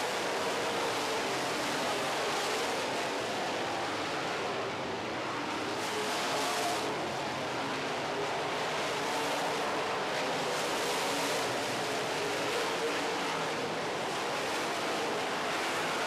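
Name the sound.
Ford-powered super stock race car engine on racetrack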